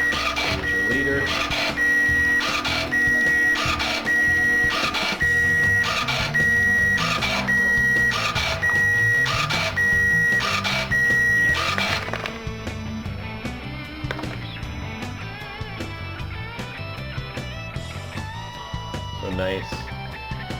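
A Cab label printer feeds 1/4 inch flattened material and prints labels with a rapid, regular mechanical clatter and a high whine for about twelve seconds. Quieter motor and handling noises follow, with a person talking throughout.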